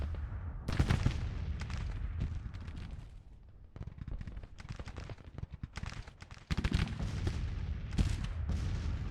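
A Civil War video game battle rages with dense, continuous musket volleys and heavy artillery booms, bursts of gunfire swelling and easing as the fighting goes on.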